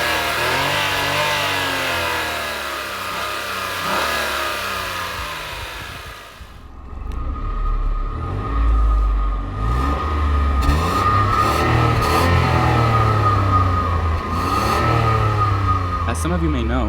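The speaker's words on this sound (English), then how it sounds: "Starting power comes courtesy of a 10 kilowatt-hour battery mounted behind the seats, and it sounds like this." Honda hybrid 1-liter three-cylinder engine starts up on power from a 10 kWh battery behind the seats, turning over after a stretch of speech and settling into a steady, fairly loud close idle with light revving.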